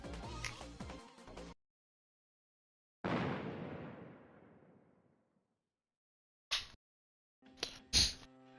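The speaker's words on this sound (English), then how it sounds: "A loud explosion sounded from below." A single loud in-game explosion from below in Persona 3 Portable, a sudden broadband boom that rolls off over about two seconds, set between separate stretches of game sound and brief sharp effects.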